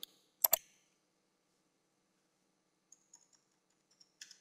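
A few sharp clicks from a computer mouse and keyboard while working in an Excel spreadsheet, a quick double click near the start, then scattered faint light taps, close by in a quiet room.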